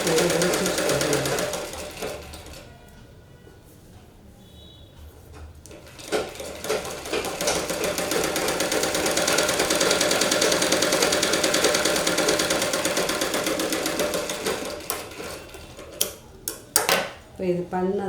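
A sewing machine topstitches the front piece of a plain blouse, its needle chattering in a steady, close run that eases off briefly, then resumes and ends with a few short bursts.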